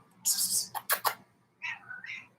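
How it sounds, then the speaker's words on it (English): A cat meows twice nearby, a high, drawn-out cry after some brief hissy rustling, heard without anyone talking over it. "Cat's right behind me."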